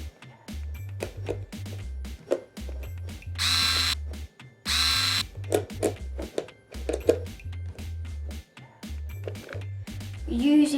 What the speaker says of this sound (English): Ask your adult to put the screw here and screw this